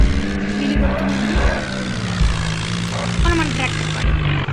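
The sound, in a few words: tractor wheels spinning in an Indian video game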